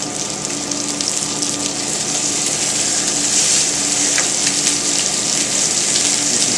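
Steaks laid into high-heat oil in a pan, giving a steady, loud broadband sizzle that holds evenly throughout with no talking.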